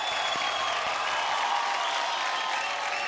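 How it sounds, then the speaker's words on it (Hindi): An audience claps steadily to welcome a poet onto the stage of a televised show, a dense, even wash of applause that holds without pause throughout. "तो जोरदार तालियों से स्वागत कीजिए"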